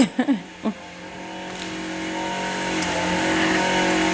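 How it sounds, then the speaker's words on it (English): A hedge trimmer cutting bushes gives a steady mechanical motor whine that drones on and slowly grows louder, with a few short thumps at the start. "If you hear some noise, that's just my neighbor doing the yard and trimming the bushes here."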